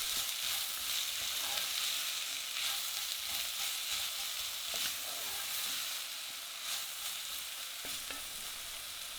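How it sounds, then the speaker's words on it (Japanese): Sliced onions and garlic sweat in a pan with a pinch of salt, giving a quiet, continuous hiss of sizzling with faint stirring scrapes throughout. "エマンセにしておいた玉ねぎとニンニクを入れてよくシュエしていきます"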